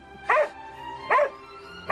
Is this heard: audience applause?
no